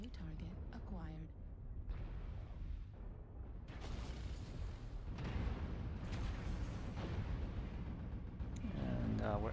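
Missile salvos and explosions from a Mad Cat MK II mech firing ATMs in MechWarrior Online, repeated booming bursts and rumbling blasts over a steady engine-like hum, with a synthetic voice announcing now and then.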